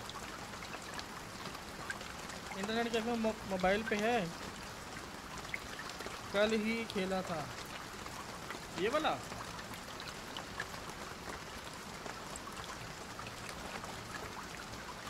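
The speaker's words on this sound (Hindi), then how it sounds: "बारिश आ रही है।" Steady rain hisses through a horror video game, a constant wash of falling water under a man's intermittent chatter.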